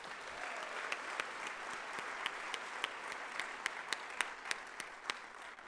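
Audience applause at an evening scholars' induction ceremony, a steady wash of clapping from a crowd, with a few sharper, nearer claps standing out over the even background.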